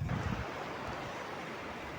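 Ocean waves break near the shore at a Philippine fishing spot, a rough rushing surge with a heavier thump at the start, then steady wash and wind noise.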